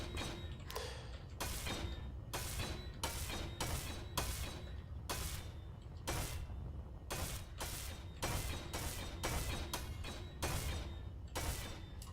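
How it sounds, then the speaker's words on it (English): An elite welder works in Space Engineers, producing repeated bursts of harsh crackling noise in an irregular on-off rhythm, each burst lasting under a second, close and moderately loud. "let's weld these guys up. Oh yeah, that elite welder."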